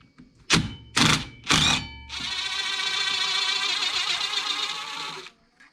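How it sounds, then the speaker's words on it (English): An impact wrench works the brake caliper bolts on a Yamaha Wolverine X4: three short, sharp bursts, then a steady rattling whir of about three seconds, loud and close with no talking. "I'm going to go ahead and use the impact for that"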